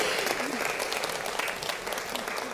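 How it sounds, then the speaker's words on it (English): Audience applause at an awards ceremony for care champions, a continuous wash of many hands clapping at an even level from start to finish, with faint voices mixed in. "One more round of applause as well to Ms. Lin Yang."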